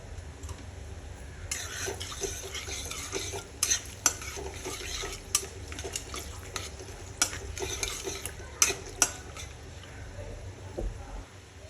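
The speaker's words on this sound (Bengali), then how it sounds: "তো এখানে ফোড়ন আমি দিয়ে দেবো, আর 3টে তেজপাতা" Whole spices such as cinnamon, cardamom, cloves, star anise and peppercorns tempering with bay leaves in hot oil for an egg curry, a busy close sizzle broken by repeated sharp clinks and scrapes of a spoon against the pan.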